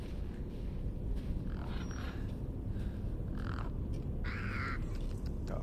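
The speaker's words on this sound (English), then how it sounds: "I'm not liking these crows." Crows cawing in Resident Evil Village, several harsh caws scattered over a steady murky ambient bed, moderately loud and without talk.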